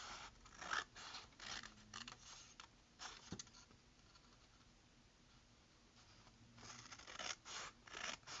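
Scissors snip through paper strips for a sea turtle weaving craft, a run of close, crisp cuts in uneven bursts with a quieter stretch in the middle.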